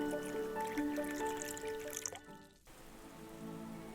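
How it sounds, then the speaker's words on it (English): Oil pours steadily from a jar into vessels, a continuous trickling, dripping liquid sound under soft background music that drops out briefly before the pouring resumes. "They were surprised to see that the oil from her jar kept pouring and pouring"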